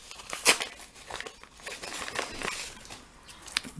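Paper envelopes are torn and rustled open to pull out graded Pokemon Jungle cards in plastic slabs, giving close, irregular crinkling and tearing bursts with one sharp rip near the start.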